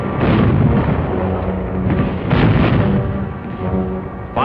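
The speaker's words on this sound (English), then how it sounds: "concentrate our artillery, mortar, and small arms fire on the enemy" Sustained artillery, mortar and small-arms fire from the Battle of Manila, a dense, continuous roar of overlapping heavy blasts and bursts at high volume with no pauses.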